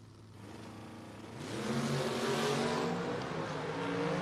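Drag race at a no-box 660 shootout between a Mustang and a Camaro on Mickey Thompson ET Street tires, engines idling then swelling into a loud sustained roar as the cars launch and pull away.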